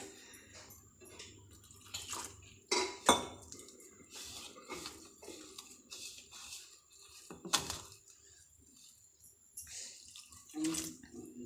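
Ridge gourd bonda batter being mixed in a bowl, with repeated clinks and scrapes of a utensil against the dish and some wet, watery sloshing, moderately quiet and close, with no talking.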